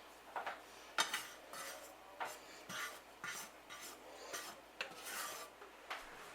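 Toasted food for a banana caramel tart is tipped from a pan into a bowl, a series of close, rhythmic metallic scrapes and clinks of a utensil against cookware, roughly a dozen strokes with brief gaps between them.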